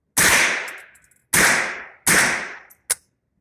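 Three sharp, loud cracks from a Savage model 64F .22 LR rifle, evenly spaced with short decaying tails, followed by a fainter fourth shot, close and alone without talk.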